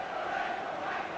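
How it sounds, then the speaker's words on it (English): A home football crowd at a Luton Town v Norwich City match protests a referee's decision after a player is penalised, a dense, steady roar of many voices filling the stadium throughout. "once more the home crowd standing to criticise the referee's decision"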